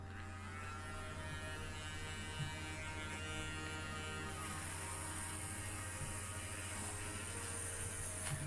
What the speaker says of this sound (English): Pulling out the Dremel with the steel wire attachment.